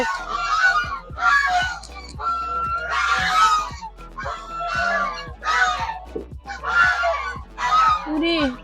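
Hens cackle and squawk in short, loud bursts, one after another, close by during egg collection, with a person's voice mixed in among the calls.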